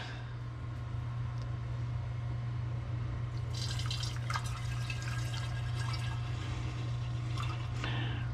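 Beer wort pours and splashes through a strainer into a vessel during home brewing, a continuous watery rush over a steady low hum, with no talking.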